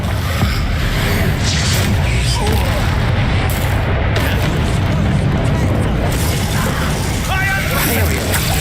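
A Confringo fire spell explodes during Hogwarts Legacy combat, loud booming blasts layered over dense clattering game effects and rumble with no breaks, while a voice talks over the action.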